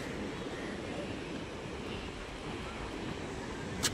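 Sea waves and wind on Shrivardhan beach, with boats nearby: a steady, broad wash of surf mixed with wind rumbling on the microphone, even and unbroken, ending with a short sharp knock.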